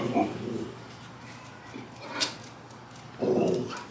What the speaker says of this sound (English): what are you barking at? Are you barking at this?